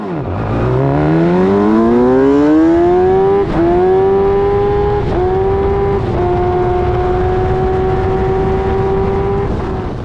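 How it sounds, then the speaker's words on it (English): An onboard F1000 race car at Silverstone pulls away with a slipping clutch, the engine revving up sharply and then holding a high, strained, droning pitch that barely climbs, with small hitches, loud and close. "you can hear the clutch slipping and the car not driving"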